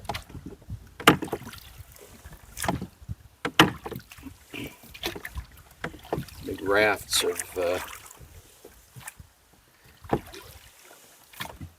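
Wooden knocks and splashy paddle strokes of a small rowed boat against a strong stream current come in irregular bursts, with someone speaking briefly between them.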